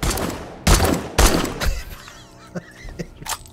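Gunshots from a weapon in 7 Days To Die Alpha 20: three loud close shots in quick succession, followed by quieter clatter and faint ambient sounds.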